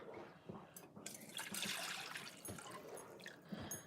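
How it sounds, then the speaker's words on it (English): Sauce is poured from a dish back into a container, a soft continuous liquid trickle and splatter with small drips, close and fairly quiet in a kitchen during a spring roll cooking session. "I'll just pour the sauce back in here."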